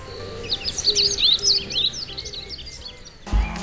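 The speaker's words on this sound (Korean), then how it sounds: "청아한 새소리가 대신합니다." Clear birdsong fills a mountain village morning, with quick, high chirping phrases close by over a soft outdoor hum. The calls fade out and a dull thump sounds near the end.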